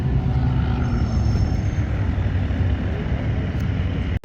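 Propeller airplane engines run in the pits at the Reno Air Races, giving a steady, loud, droning roar that holds throughout and cuts off abruptly at the very end.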